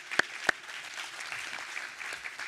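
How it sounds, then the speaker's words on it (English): Audience applause in a room at an opioid and addiction coalition symposium, a brief steady patter of clapping with two sharper claps near the start, fairly faint and without talk. "another round of applause for everyone being here today"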